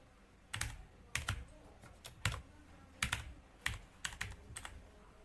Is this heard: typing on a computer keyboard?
yes